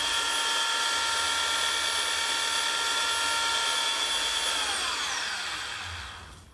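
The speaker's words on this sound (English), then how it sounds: "This is a great mixer." A Rubi paddle mixer spinning in a drill to mix tile thinset gives a loud, steady high whine with a constant tone that winds down and fades as the motor stops near the end.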